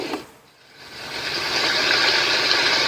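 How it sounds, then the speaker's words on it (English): A sound machine's rain setting: a steady, dense hiss of rain-like noise swells in after a brief dip and continues evenly, close and moderately loud. "That's rain."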